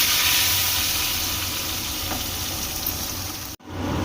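Chopped tomato sizzles in hot oil in a kadai for a chana paneer masala. A steady, close frying hiss runs with no talk and breaks off abruptly near the end, then resumes more softly.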